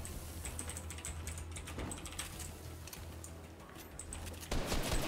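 Rapid, clicky typing on a loud mechanical keyboard with Cherry MX Blue switches, steady keystrokes close up with a brief heavier clatter near the end.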